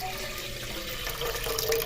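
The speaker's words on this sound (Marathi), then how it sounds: "आता एक पातेलं घेतलंय आणि त्याच्यामध्ये एक तांब्याभर पाणी टाकून घ्यायचे" Water pours steadily from a small brass jug into a cooking pot on an Indian kitchen stove, a continuous close splashing fill lasting under two seconds with no talking.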